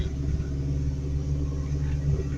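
Truck engine idling after its exhaust system fell off, a loud, close, deep rumbling drone with a steady pulsing throb and no talk.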